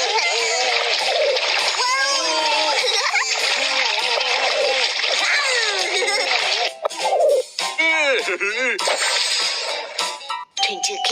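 Cartoon splash of a character jumping into the sea, a bright watery burst among chiming effects, with childlike animated voices talking over much of it.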